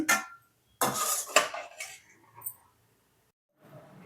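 A spoon scrapes and clinks against a pan while stirring thickening milk into khoa, several short scraping bursts separated by pauses, near and fairly loud, no talk.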